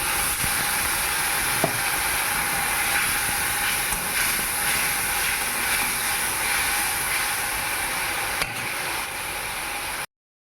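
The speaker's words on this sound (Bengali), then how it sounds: "এই মশলাটা এবার দিয়ে দিচ্ছি এই মশলাটাকে আদা রসুন কাঁচা লঙ্কা আর জিরে বাটা" A spice paste of ground ginger, garlic, green chilli and cumin, with onion, fries in a pan, giving a loud, steady sizzling hiss for about ten seconds before it cuts off.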